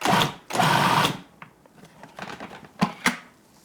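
A food processor chops a vegetarian crab cake mixture in short pulses: two longer whirring bursts, then several brief choppy spurts, close up.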